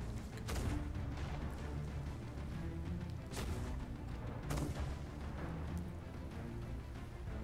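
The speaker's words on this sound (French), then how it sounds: "il tire avec ses canons avant" Repeated deep booms of ship cannon fire in the video game Sea of Thieves, several blasts spaced a second or so apart over a continuous low rumble of battle noise.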